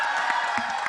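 An audience at a film trailer launch event for Chatrapathi applauds and cheers, a dense continuous wash of clapping with scattered whoops, loud and close throughout the short burst.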